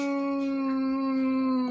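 A dog howls in one long, sustained, tonal wail that holds nearly level and wavers slightly, loud and close, with no talking.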